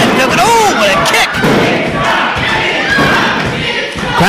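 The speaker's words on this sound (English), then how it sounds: "Crowd chanting big time." Crowd at a live independent wrestling show chanting loudly in support of a wrestler, a rough roar of many voices with thuds from the ring mixed in and a raised shout near the start.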